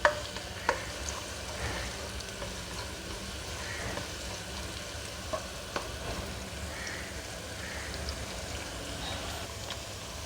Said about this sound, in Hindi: ये देखिए हमारी प्याज सौते हो गई है